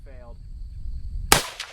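A single sharp, loud gunshot from a .30-30 Win lever-action rifle loaded with Hornady LEVERevolution ammunition cracks near the end after a quiet outdoor stretch with a brief voice at the start.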